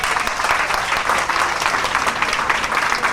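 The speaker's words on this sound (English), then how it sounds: "Let's give Dennis another round of applause" Sustained audience applause at an orientation program as the crowd rises to its feet, dense steady clapping filling the whole stretch at close range with no talk over it.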